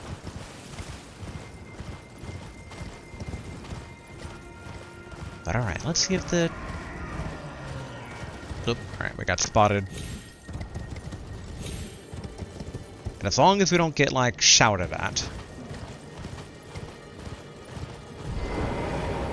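Horse hooves clip-clopping in the video game Elden Ring, a steady soft trot that continues under someone talking, with louder bursts of game sound partway through.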